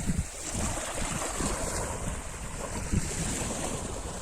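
Surf rolls steadily onto a long, curving stretch of Periyapattinam beach in Ramanathapuram, with a continuous broad wash of water, gusts of wind buffeting the microphone and no voices.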